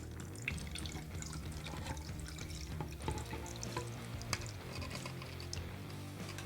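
Teriyaki marinade poured over chicken pieces, a steady wet gush of liquid with small drips and splashes running continuously, close and alone without talk.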